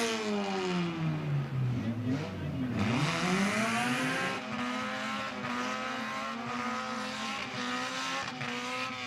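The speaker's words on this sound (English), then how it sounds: "Blaze and Gavin doing the dueling burnouts" Two race cars doing dueling burnouts at a speedway on championship night, engines screaming and swooping in pitch as they rev hard, loud and sustained with tire noise and crowd sound beneath.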